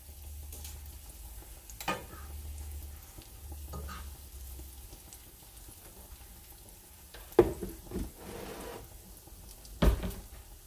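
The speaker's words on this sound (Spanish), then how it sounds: "Estamos aquí friendo las bolitas. Tiene que estar el aceite bien caliente." Potato balls coated in green plantain flour fry in hot oil, giving a soft, fairly quiet bubbling sizzle with a few sharper clatters as they are turned.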